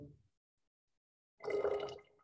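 Thick, syrupy liquid pours in a single burst lasting under a second, close and fairly loud, after a brief low sound and a stretch of silence.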